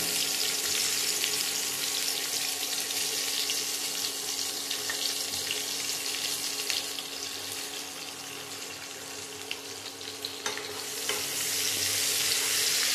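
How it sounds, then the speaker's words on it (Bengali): Chopped onion fries in a pan of oil with whole garam masala after potatoes, giving a long, even, close sizzling hiss, a watery crackle with faint stirring, dipping slightly midway before swelling again. "পেঁয়াজ কুচিটাকে ভালো করে ভেজে একটু লাল লাল করে পেঁয়াজটাকে ভাজতে হবে"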